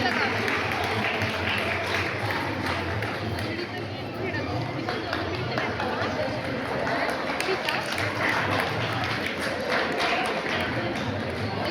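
Steady applause and cheering from an audience at a children's prize-giving ceremony, continuous and dense throughout with crowd babble mixed in.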